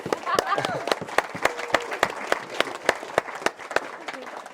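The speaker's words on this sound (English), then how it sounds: "So round of applause for Lisa, please." Wedding guests applauding during the speeches, with distinct individual claps in a loose, irregular rhythm and a voice briefly heard at the start.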